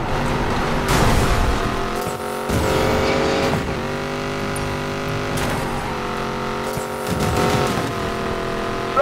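A car engine growls and revs hard in the street-racing game Need for Speed Payback, loud and close, climbing in pitch through repeated gear shifts, with brief tire squeals between surges.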